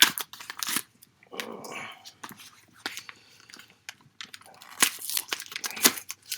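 A water-resistant poly mailer package being torn open, with bursts of ripping and crinkling plastic broken by short pauses, close and fairly loud.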